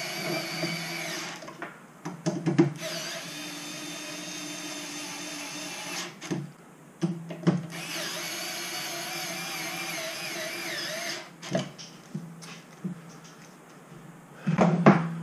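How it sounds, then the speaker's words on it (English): A power driver tightens bolts in a cross pattern while an LXV airsoft Carl Gustav is assembled, giving two long, steady whirring runs separated by short clicks and knocks of handling, close and fairly loud. "Bolting in a cross pattern."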